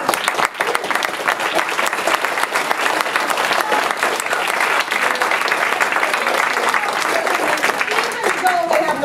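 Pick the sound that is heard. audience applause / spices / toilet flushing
audience applause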